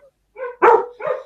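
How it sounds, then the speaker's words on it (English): A dog gives a short burst of two or three quick, loud barks up close, each sharp and closely spaced, with nothing else around them. "That's my dog's barking."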